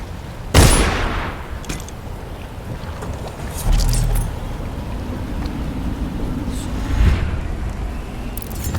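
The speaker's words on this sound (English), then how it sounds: "I know a gunshot when I hear one, and that was definitely a gunshot." Gunfire in the stealth game Dishonored: a sharp loud shot near the start, followed by two softer, more distant bangs spaced a few seconds apart over a steady ambient wash of wind or rain.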